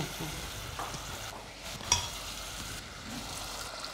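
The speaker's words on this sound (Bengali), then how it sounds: "এখন আমরা একটু পানি ঢেলে দিই।" Steady sizzling as water is poured into a hot frying pan of carrot cake mixture, a continuous crackling hiss with a brief sharper spurt near the middle, close by and moderately loud.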